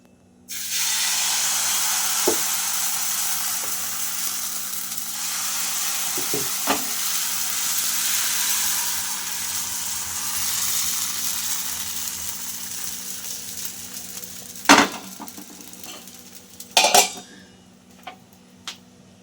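Chakli pitha batter poured onto an oiled pan, a sudden loud sizzle that settles into a long steady hiss, with occasional sharp spatula taps near the end before fading out.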